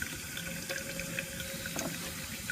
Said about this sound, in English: turn the tap on, make sure we've got a bit of suction here in our